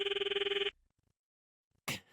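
A phone rings back on an outgoing call: a rapid, warbling electronic ring lasts under a second, then cuts to near silence before a short sharp burst at the end.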